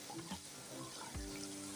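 Garlic tempering in hot oil over a very low flame while cooking Kathiawadi dahi bhindi, a steady soft sizzle and crackle filling the whole moment, with a faint stir or clatter near the end.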